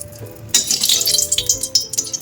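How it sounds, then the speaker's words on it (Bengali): Cauliflower frying in hot oil with tempering spices in a home kitchen, a steady close crackling sizzle that flares up loudly after a quiet start and keeps popping throughout. "একবারে ফোড়ন দিয়ে ফুলকপিগুলোকে ভাজা শুরু করে দেবো"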